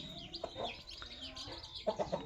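Hen with fourteen chicks, offered together for sale, clucking in a rapid run of short calls near the end, over a busy background of chirps and faint talk.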